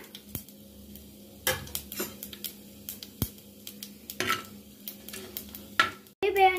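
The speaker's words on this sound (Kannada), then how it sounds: "ಚಟಪಟ ಅಂತಿದೆ ಈಗ ಮೆಣಸಿನ್ಕಾಯಿ ಹಾಕೋಣ ಜೀರಿಗೆ ಹಾಕೊಂಡು ಫ್ರೈ ಮಾಡ್ಕೊಳ್ಳೋಣ" Chillies and cumin frying in hot ghee in an earthen pot, with a few sharp clinks of a spoon against the pot and soft crackle underneath, close and fairly quiet.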